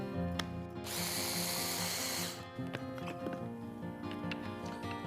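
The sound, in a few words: electric mixer blending broccoli pesto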